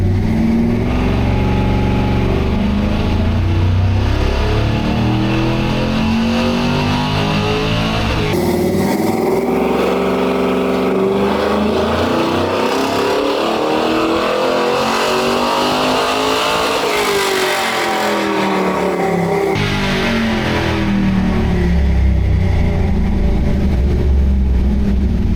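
An LS3 V8 in a C10 pickup on a dyno pulls a full run, a loud sustained engine roar climbing steadily in pitch through the revs, then easing back down near the end.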